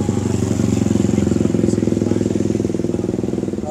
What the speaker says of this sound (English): Nice Harley.